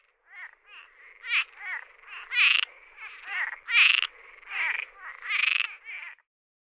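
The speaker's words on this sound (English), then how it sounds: "So that was a Cuban tree frog. It kind of sounds like a squeaking door or a snoring rasp." A Cuban tree frog gives a series of raspy, squeaky croaks in rhythmic bursts, each rising and falling, close and clear against silence.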